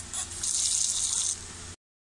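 Water runs in a brief steady stream into a cooking pot while making pinangat na isda with kalabasa, a close hissing pour that stops abruptly.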